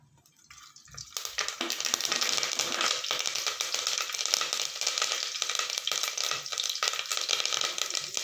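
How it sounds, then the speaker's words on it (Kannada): Mustard seeds and curry leaves hit hot oil for bitter gourd curry, a sudden loud burst of dense crackling sizzle that holds steady and close after a quiet start. "ಸಾಸಿವೆ ಇವಾಗ ಸಿಡಿಬೇಕು ಸಿಡಿದ ಮೇಲೆ ಇದಕ್ಕೆ ನಾನು ಕರ್ಬೇವಿನ ಸೊಪ್ಪು ಹಾಕ್ಕೋತಾ ಇದ್ದೀನಿ"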